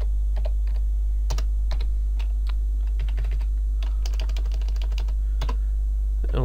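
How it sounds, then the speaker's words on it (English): Typing on a computer keyboard, a run of close, crisp key clicks in uneven bursts, loudest toward the middle, with no talk. "if I click type localhost"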